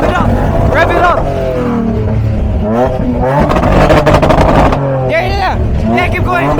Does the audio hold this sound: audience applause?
no